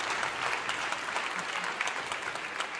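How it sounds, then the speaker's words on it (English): Audience applause at a faith conference panel session, a dense, steady patter of many hands clapping for about three seconds with no voices over it. "I think that's cause for a clap there."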